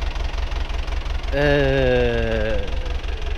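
A farm tractor engine idles loud and close with a steady regular knocking pulse, while a brief whining tone rises over it in the middle and then fades.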